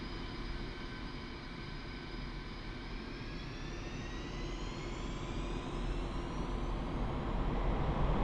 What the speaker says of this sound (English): increase thrust of both engines to maximum and use gentle inputs on the rudder